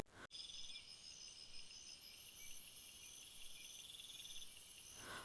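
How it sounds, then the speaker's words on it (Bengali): Crickets chirp at night along a lonely road, a steady high-pitched trilling drone that carries on without a break, with no voices. "শুধু ঝিঝি পোকার শব্দ।"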